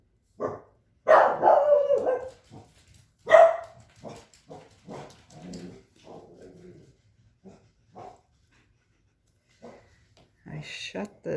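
Dogs barking behind a shut door, several muffled barks and a whimper scattered between pauses, with a person talking over them at close range.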